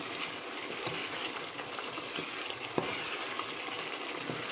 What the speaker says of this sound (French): Ça mijote bien là.